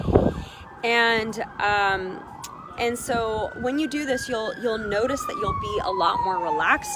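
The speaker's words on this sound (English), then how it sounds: "Sorry for the sirens." Emergency vehicle sirens wail outside, a rising and falling tone passing by, moderately distant, under someone speaking in short phrases throughout.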